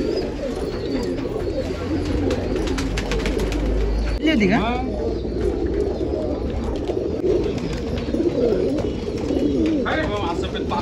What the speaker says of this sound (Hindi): बहुत ही शानदार, बहुत ही खूबसूरत कबूतर है